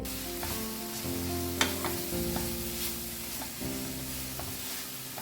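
Semolina stirred into a pot over a low flame for puli pitha, a steady soft sizzle with repeated scraping strokes and light knocks of the spoon, no talking.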